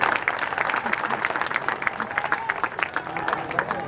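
Women in an audience at a political rally clapping, a dense burst of many hands with rapid irregular claps, moderately close and sustained throughout the short stretch, with no speech over it.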